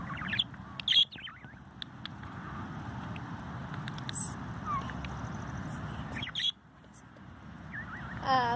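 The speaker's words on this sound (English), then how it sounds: "And Skye can't really chirp like Chirp can" Budgie parakeets sit outdoors on a pleasant day. Scattered brief chirps and tweets rise now and then over a steady, fairly quiet outdoor background.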